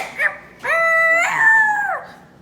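A voice imitates a dog, giving a short yip and then a long, wavering howl that rises and slides down, close and loud with no other talk.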